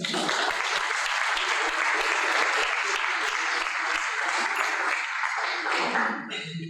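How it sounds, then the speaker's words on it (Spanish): Audience applause welcomes a speaker at an engineering council talk, a dense, even burst of many hands clapping that holds for several seconds, then fades out abruptly at the end. "Lo recibimos con un aplauso."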